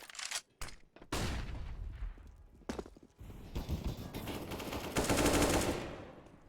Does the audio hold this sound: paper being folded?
no